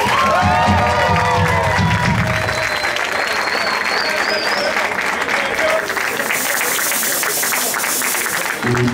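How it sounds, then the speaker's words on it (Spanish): A crowd at a live event applauds and cheers, loud dense clapping with shouts and whistles rising over it, continuing strongly for the full stretch. "Así que un fuerte aplauso y muchas gracias."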